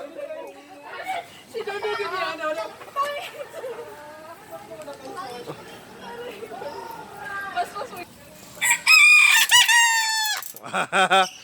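Voices chatter for several seconds, then a loud, strained rooster-like crowing call rings out twice near the end.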